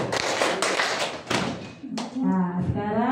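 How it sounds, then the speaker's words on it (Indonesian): A group of people clapping a counted rhythmic pattern during a school workshop session, a run of sharp taps and thuds in the first half that gives way to voices speaking. "Oke, kita coba tepuk 1, 3, 2."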